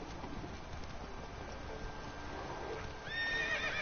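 In The Witcher 3, the horse Roach gives a short neigh near the end over soft ambient game sound.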